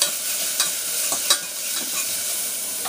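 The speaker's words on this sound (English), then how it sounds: "Keep stirring." Green beans and potato stirred in a frying pan, a constant bright sizzle with several distinct scraping stir strokes, close and fairly loud, with no talking.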